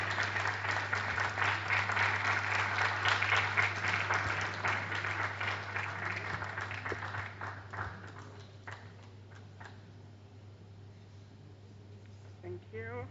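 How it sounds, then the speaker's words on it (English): Guests at a book presentation panel applaud Betty Irabor as she is introduced, a thick burst of clapping over a steady electrical hum that gradually dies away into scattered claps and quiet voices. "A round of applause for her, please."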